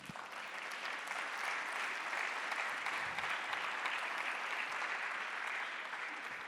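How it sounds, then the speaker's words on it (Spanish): A church congregation claps together in a steady, broad wash of applause, moderately loud and even for several seconds without talk over it. "Denle un aplauso fuerte al Señor."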